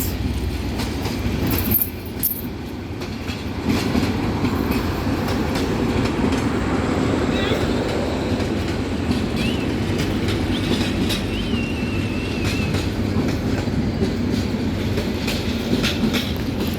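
The Kalni Express, a Sylhet-to-Dhaka passenger train, rolls past loud and close in a steady rumble with clickety-clack wheel rhythm and brief metallic squeals, with no talk over it.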